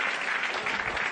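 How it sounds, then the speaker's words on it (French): Audience applause for a volunteer at a pickpocket show, a dense, steady burst of clapping from a sizeable crowd, close and loud throughout. "Et on applaudit très fort."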